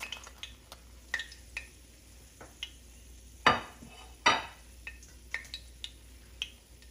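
Shishito peppers fry quietly in a pan with a soft, steady sizzle. Occasional sharp clinks and scrapes come from a utensil stirring and flipping them.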